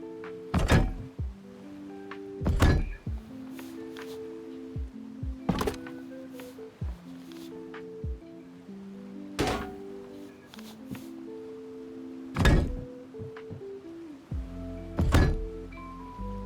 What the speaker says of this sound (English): Now, place all of your cannons like shown in the video.